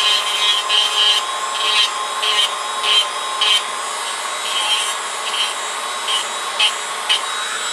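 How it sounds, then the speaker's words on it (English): Digital Dremel rotary tool trimming wood, a high-pitched motor whine with repeated rasping bursts as the bit is pressed into the wood in short strokes, loud and close with no talking. "So I've got to come in here and I'm using a Dremel. I'm using a digital Dremel,"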